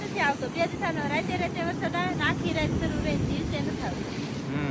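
Stormy sea waves and gusting wind at the coast by the Ratneshwar Mahadev temple, a constant low roar of surf and wind buffeting the microphone beneath someone speaking.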